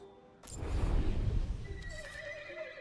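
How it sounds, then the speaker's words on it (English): A talking horse in the video game Titan Quest 2 lets out one loud, close neigh that rises and trails off over about two seconds, with faint hoof clops. "Ah, It's a freaking horse."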